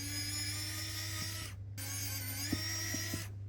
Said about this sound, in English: I'm going to use a electric screwdriver, and I'm going to start by just ripping out all these screws